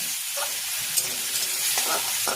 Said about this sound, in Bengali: এভাবে এদিক ওদিক নেড়ে ছেড়ে ভাজতে হবে।